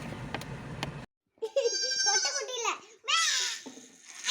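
A young goat kid bleats on a farm in a series of close, wavering cries, with a brief noisy stretch and a gap before them.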